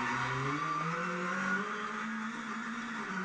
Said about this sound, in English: I went too early on the power and I get wheel spin and I run out onto the grass